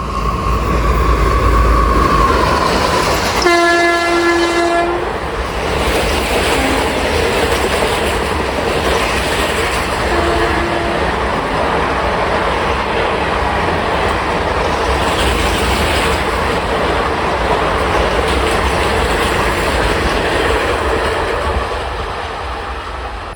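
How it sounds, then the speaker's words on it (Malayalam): Chennai Mail passenger train from Mangalore passes close by at speed near Bekal Fort, opening with a loud sustained horn blast, then a long steady roar of wheels and carriages rattling past until fading near the end. "നമ്മുടെ മലബാറുകാരുടെ ഒരു ലെജൻഡറി വണ്ടി വരുന്നുണ്ട്, ചെന്നൈ മെയിൽ"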